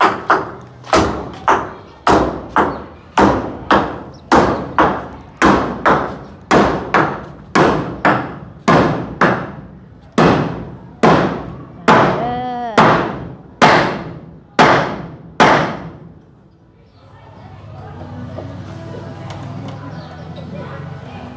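Nails driven by hammer, a steady series of about fifteen loud, sharp strikes roughly one per second, close by, ending in a brief rumble of background noise.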